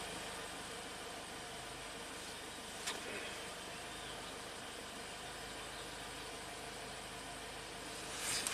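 A Ford EcoBoost turbocharged engine idles with a steady, quiet hum and faint hiss, even and unchanging throughout, with a small click near the middle and no voices.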